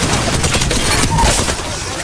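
Dense gunfire from the battle royale game Apex Legends during an ALGS match, rapid overlapping shots and impacts forming a continuous loud fusillade for about two seconds.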